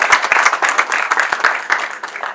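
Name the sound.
applause for the couple at a wedding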